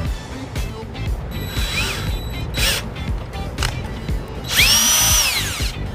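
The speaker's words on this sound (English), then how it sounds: "I've got my drill and we're just gonna drill a hole straight through the center of that plug." Power drill boring a hole straight through the center of a rubber wiring plug during a 2018 Honda HR-V trailer wiring install, whining in short bursts that rise to a louder, sustained grind near the end, close up.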